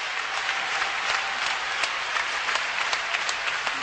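A crowd applauds steadily as the president and his wife arrive, a dense, continuous patter of clapping from many hands with no voices standing out.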